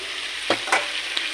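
Fried pointed gourd pieces tipped into a hot pan with tomatoes for a Bengali dish, a steady sizzle with a few quick clattering drops and stirs, close and alone.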